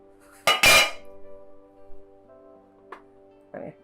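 A cooking pot lid lifts off with a sharp metallic clank, followed by a few lighter clinks of metal against metal in a quiet kitchen.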